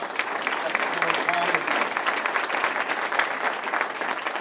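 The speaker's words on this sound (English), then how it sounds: "let's give a round of applause for Tamika Hubbard, who's doing a great job." A large crowd applauds at an outdoor street renaming ceremony, with dense, steady clapping that holds loud and even for the whole stretch, while a voice carries faintly beneath it.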